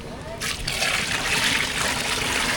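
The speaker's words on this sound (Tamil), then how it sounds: "புளி தண்ணி கரைச்சி வச்சுருக்கோம் அதை சேர்த்துக்கலாம்" Tamarind water is poured into fish curry masala in a pan, a close steady splashing trickle that begins abruptly and continues throughout.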